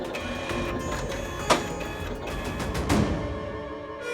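An office printer running off a result sheet gives a steady mechanical whir with a sharp click partway through and a brief clatter near the end, close and alone.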